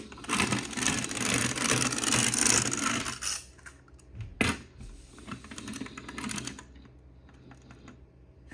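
A wind-up polka dot toy robot walks with a dense, steady mechanical clicking and whirring for about three seconds. Its winding then slows into sparser, fainter ticks.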